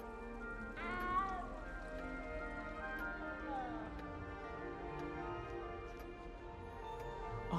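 A small cat meows inside the video game Hogwarts Legacy. Its cries are clear and come a few times over steady game music and ambience.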